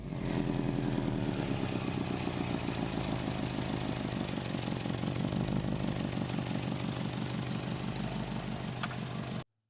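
Engine running with an exhaust leak where the OEM exhaust meets an aftermarket downpipe, a steady close rapid puffing tick over a continuous idle drone that cuts off at the end.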